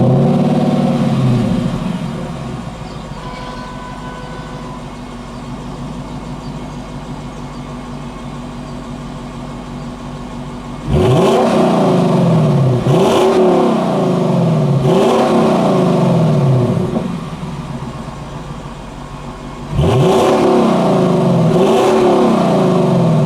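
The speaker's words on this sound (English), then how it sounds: "let's hear how the car sounds in both Comfort and Sport Plus modes" A 2021 Lexus LC500 Convertible idles with a low, steady exhaust burble, then gives two sets of loud, sharp throttle blips, each rising quickly and falling away, heard nearby with no talking.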